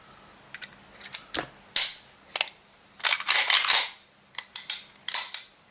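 A CZ Shadow 2 pistol being reassembled as its slide stop is fitted: a string of sharp metallic clicks and clacks in irregular bursts, close and fairly loud, with no talking.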